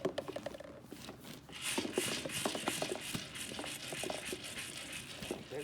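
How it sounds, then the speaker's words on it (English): Small objects rattle and patter inside a tipped-over box, a dense run of light clicks with an occasional heavier knock from one larger piece, close and fairly quiet. "There's little objects in there moving around, and one maybe slightly larger object in here bonking around."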